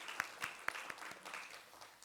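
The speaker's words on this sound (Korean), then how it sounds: "특별히 소프라노를 위해서 박수 한번 부탁드리겠습니다." A small church congregation claps for a soprano soloist, with a handful of distinct hand claps at an uneven rhythm. The applause is faint and thin and sounds a little distant.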